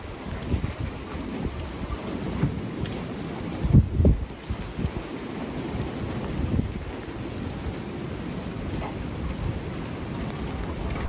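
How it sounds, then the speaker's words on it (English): Steady rain pours down outdoors in a hard, constant hiss, with a low rumble of thunder swelling briefly partway through and no voices. "Got a rainy day today."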